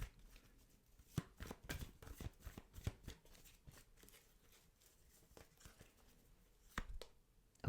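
Tarot cards shuffled by hand during a reading, a quiet close riffle of soft flicks and slaps in irregular bursts, with no talking.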